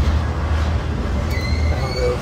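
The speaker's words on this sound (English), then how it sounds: "I'm taking a chance on this train." Freight train rolling out of Galesburg at midnight: a steady low rumble with rolling wheel noise, and a brief high squeal of wheels near the end, heard close by and fairly loud.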